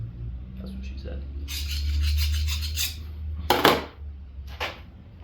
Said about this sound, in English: So it is hardened, file skates like it should.